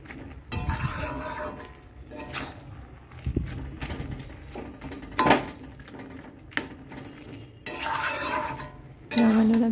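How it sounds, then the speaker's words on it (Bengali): A metal spatula scrapes and stirs cooked leafy greens in a pan, with repeated clanks and scrapes in irregular bursts over soft sizzling, close and moderately loud. "এরপরে খুন্তি দিয়ে বেশ একটু ঘন্ট করে নেব।"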